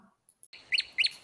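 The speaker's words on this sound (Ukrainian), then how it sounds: "там соловейко навесні співає між гілками." A nightingale sings in the open, giving bright, sharp chirps in three short repeated bursts after a brief quiet pause, with a soft faint background.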